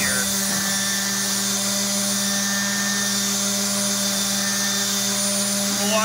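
Milwaukee and Bosch 5-inch sanders run at top speed, giving a steady, loud, close high-pitched whine with a constant motor hum and no pauses.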